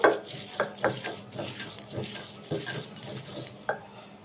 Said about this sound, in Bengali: এখন মাছটাকে হালকা করে বেটে নেব